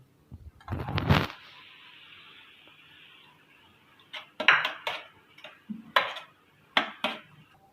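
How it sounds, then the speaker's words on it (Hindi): A spoon stirring green coriander, mint and crushed green chillies into yogurt in a bowl, heard as a burst of clattering at the start, then a quiet stretch and a series of sharp clinks and scrapes. "तो अब हम इसको दही में मिक्स करेंगे।"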